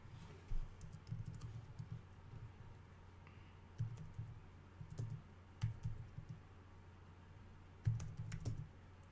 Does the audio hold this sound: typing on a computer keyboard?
yes